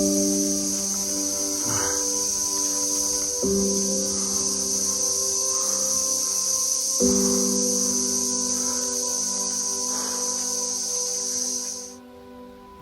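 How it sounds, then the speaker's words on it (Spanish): Cicadas sing loudly in a humid, jungle-like landscape on the Durango–Mazatlán route, a continuous high, shrill drone that runs unbroken over faint background tones and then cuts off near the end. "And to top it off, we hear the loud song of the cicadas."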